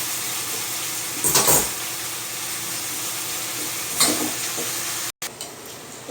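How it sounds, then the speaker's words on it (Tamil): Pumpkin mashed with rock salt sautés in oil, giving a steady close sizzle with a couple of brief stirring scrapes breaking through. "கல் உப்பு போட்டு மேஷ் பண்ணுங்க. எண்ணெயில் கொஞ்ச நேரம் வதக்கணும்."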